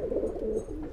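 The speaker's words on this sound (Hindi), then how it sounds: "और बेहतरीन कबूतर।" Pigeons in a breeding loft coo softly and continuously, a low rolling murmur of several birds close by with no one talking.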